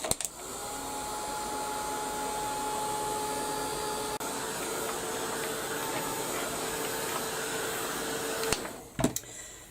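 A handheld dryer blowing air over a craft page, a loud steady whirring hiss with a high motor whine that runs for several seconds, then cuts off with a couple of clicks.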